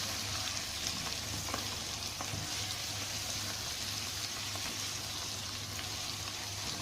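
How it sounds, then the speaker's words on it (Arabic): Sliced Alexandrian sausage is stirred and fried on onions in a pan, a steady soft sizzle with faint scraping of the spoon, close and even throughout with no talk. "هقلب بقى السجق على البصل بالشكل ده"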